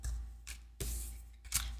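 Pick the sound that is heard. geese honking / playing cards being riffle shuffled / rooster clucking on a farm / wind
playing cards being riffle shuffled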